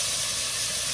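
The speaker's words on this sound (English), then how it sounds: "I'm sauteing this in olive oil" Food sautéing in olive oil in a pan, a steady close hiss of sizzling oil for about a second with no talk.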